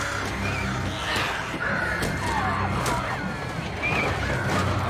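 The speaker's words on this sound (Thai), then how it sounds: "อีกาบ้าเอ้ย" Crows caw repeatedly in the video game Days Gone, several harsh calls rising over a steady noisy game backdrop with a low rumble, fairly close and clear throughout.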